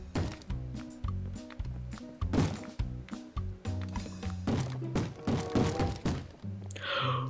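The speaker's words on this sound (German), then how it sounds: "Hörst du, wie die alle rumscheppern?" Zombies clatter and thump outside a house in Minecraft, a run of repeated hollow knocks and thuds in an uneven rhythm, loud and close with game music tones underneath.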